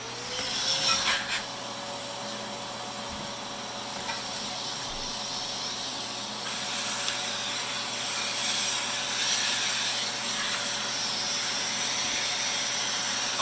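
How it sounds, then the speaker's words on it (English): A Festool Midi dust extractor vacuum runs steadily throughout at moderate level during work on a ceiling patch, a constant broadband whir with a faint steady tone and some clattering of tools handled over it. "So even when I'm putting it all together, I like to have the vacuum running"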